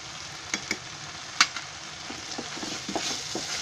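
Spices such as garam masala, turmeric and chilli powder sizzle in hot oil for egg rice, giving a steady close fry hiss with a few light stirring clinks and taps.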